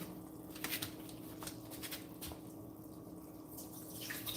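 Rice being rinsed in water in a home kitchen: steady sloshing and swishing water with small splashes and drips, close and fairly quiet, with no talking.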